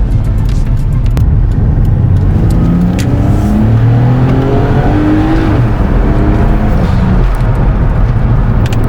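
The engine of a Nissan Stagea C34 test car on about 6 psi of boost, fitted with an automatic Nexus R3 plug-in, roars loud and close, rising and falling through repeated revving sweeps as it accelerates.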